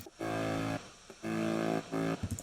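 Growl bass synth layer from a future bass track, played as three sustained, buzzy harmonic-rich notes with short gaps between them, loud and close with no talking.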